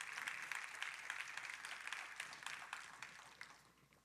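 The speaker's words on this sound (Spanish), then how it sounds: "dale ese fuerte aplauso al Señor" A church congregation applauding together, a dense, steady wash of many hands clapping from the room that slowly fades out over about four seconds.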